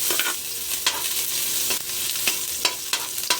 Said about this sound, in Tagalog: pagigisa tayo mga lods. Lagyan natin bawang